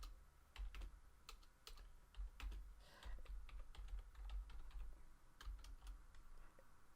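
Quiet, close typing on a computer keyboard, irregular bursts of soft key clicks with short pauses between them.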